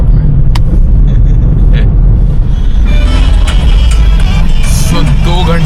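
A car sits in heavy Friday traffic in Hyderabad, with a loud, steady rumble of engines and road noise close by and faint higher clatter and horn-like tones mixed in.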